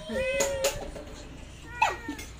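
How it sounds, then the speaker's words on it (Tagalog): A cat meows several times, short rising mews close by, two quick ones early and another near the end, over a faint background murmur. "Tingnan mo yung pusa oh."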